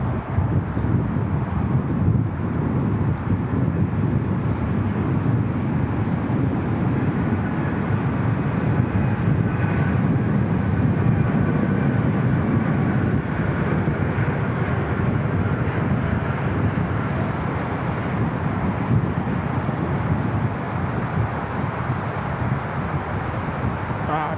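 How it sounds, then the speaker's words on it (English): Scoot airliner on its takeoff roll at Sydney Airport, a steady, broad jet engine roar rising in a continuous rumble from the distance, with wind noise and no clear talk. "we'll anticipate a long takeoff roll here from Scoot."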